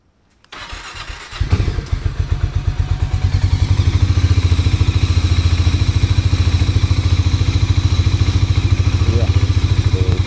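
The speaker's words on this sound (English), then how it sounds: "Let's do a cold start on our Harley-Davidson X440." Harley-Davidson X440 motorcycle cold start: a brief cranking clatter, then the single engine catches and settles into a loud, steady, close idle with even pulsing thumps.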